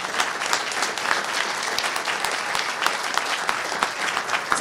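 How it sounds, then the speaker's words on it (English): Sustained applause from a conference audience at a cybersecurity event in Salt Lake City, Utah, honoring the sponsors, a dense steady patter of many clapping hands holding at an even level throughout, with no voices over it. "how about a big round of applause to all of our sponsors?"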